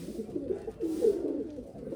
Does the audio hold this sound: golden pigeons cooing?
yes